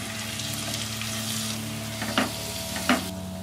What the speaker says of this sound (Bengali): মশলাটাকে ভালো করে একটু কষিয়ে নিতে হবে